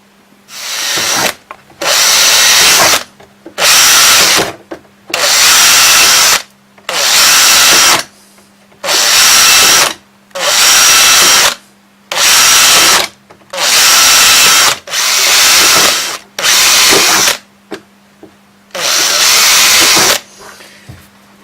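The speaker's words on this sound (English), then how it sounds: "So I'll just go through all the moulds now with the 5mm drill bit." A power drill with a 5mm bit whirs in repeated bursts of a second or two, about a dozen times, drilling through moulds, with short silent pauses between, loud and close.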